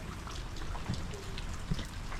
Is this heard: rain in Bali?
yes